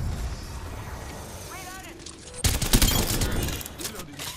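Gunfire in a shooter video game: a dense, rapid burst of shots erupts midway and continues with loud crackling, preceded by quieter in-game effects and background game noise.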